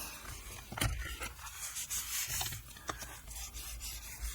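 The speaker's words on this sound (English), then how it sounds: "Just give that all a good burnish so it sits nicely." Paper being burnished on a wedding folio: close, soft rubbing and scraping strokes repeat steadily, some slightly sharper than others.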